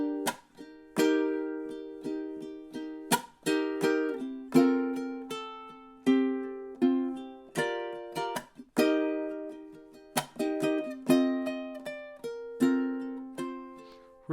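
A ukulele plays the chorus run of a song slowly, with plucked notes and strummed chords ringing out one after another in an unhurried, slightly uneven rhythm, close and clear with no talking.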